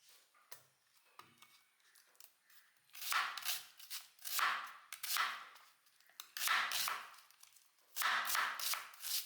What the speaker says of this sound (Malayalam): ഒക്കെ കഴുകി ഇനി നമുക്കൊന്ന് ഓരോന്നും നുറുക്കിയെടുക്കാം